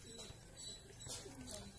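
Racing pigeons coo softly at a loft during race result tallying, low murmuring calls faintly heard under someone talking.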